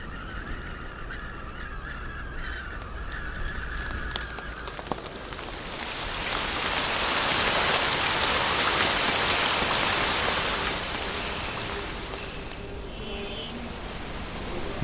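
Steady rain falling in an animated film, a broad continuous hiss that swells louder in the middle and then eases off, with no voices over it.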